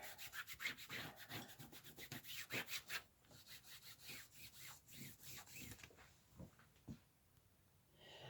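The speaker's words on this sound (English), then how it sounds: "So I'm just going to give that a good rub on there." Glued paper being rubbed down by hand while making a gate fold junk journal: quick, repeated scratchy strokes that fade to slower, sparser rubs after about six seconds.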